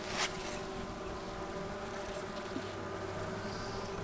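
Honeybees buzzing steadily around an open insulated Apimaye hive during an inspection, a dense continuous drone of many wings close by, with no talking.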